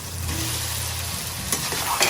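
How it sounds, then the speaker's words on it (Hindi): Potatoes, onion, tomato and green chillies fry in a pot for Sindhi biryani, giving a loud, dense, continuous sizzle with a couple of faint utensil clinks toward the end. "प्याज और टमाटर की हम अच्छी से बुनाई करेंगे"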